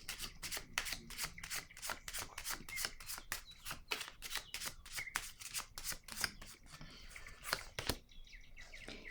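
Tarot-style cards being shuffled and laid down on a table during a card reading, a fast run of crisp riffling flicks and slaps that thins out toward the end, close and fairly quiet with no talking.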